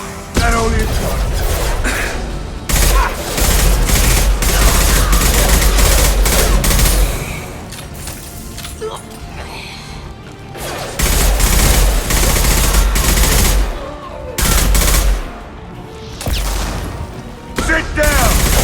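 Gunfire in Mass Effect 2, heavy volleys of rapid automatic fire in several loud sustained bursts separated by quieter gaps, with occasional booms and voices during the fighting.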